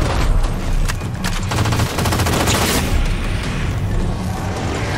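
A shotgun fires in Halo 4 amid heavy, loud combat, with a dense barrage of booming shots and rapid gunfire overlapping continuously throughout.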